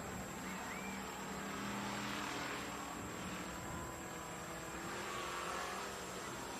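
Race cars roar down the back straightaway at Needmore Speedway, a dirt oval in Norman Park, Georgia, engines droning loud and steady throughout, with a broad, continuous rumble and no talk over it.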